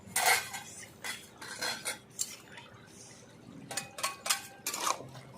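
Metal clinks and scrapes around a pot of ripe cucumber curry as the lid comes off and prawns go in, a series of close, irregular clatters and stirs with quiet gaps between, no voices.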